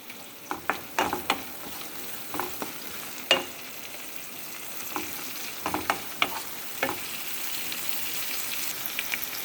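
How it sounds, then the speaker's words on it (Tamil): Sliced onions with curry leaves and salt being sautéed and stirred in a pan, with a soft continuous sizzle broken by irregular scraping stirs and clinks. "உப்பு சேர்க்குறதுனால இந்த வெங்காயம் வந்து சீக்கிரமாக வதங்கும்."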